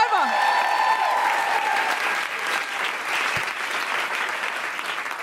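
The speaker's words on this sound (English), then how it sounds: "You can give me a round of applause if you like." A studio or stage audience applauds a guest at a live podcast event, with dense, loud clapping that fades slightly and continues steadily after a brief speaking voice at the start.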